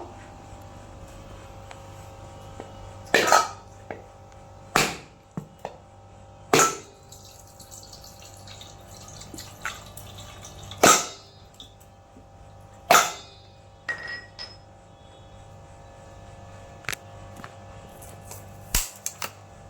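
A whole peeled, washed coconut is struck to crack it open: roughly ten sharp, hard knocks come at irregular intervals, close and fairly loud, with quiet kitchen stretches between them.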